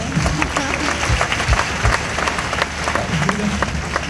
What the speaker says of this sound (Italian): Un applauso per la sincerità